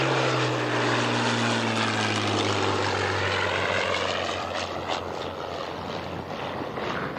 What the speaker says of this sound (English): And here comes the Hurricane.